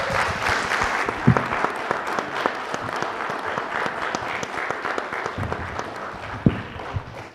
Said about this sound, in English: So just a round of applause for our authors.